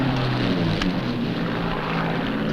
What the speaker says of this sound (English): It's close. It's the first British plane we've had.